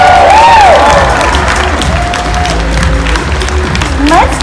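The audience at a cosplay contest claps and cheers loudly and without a break, with whoops and shouting voices rising over the dense applause.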